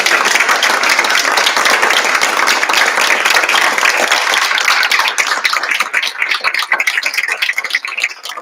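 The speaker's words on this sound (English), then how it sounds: "Why don't you guys all stand up so we can applaud you all?" A school board of education meeting audience breaks into sustained applause, dense steady clapping from many hands filling the room, thinning slightly toward the end.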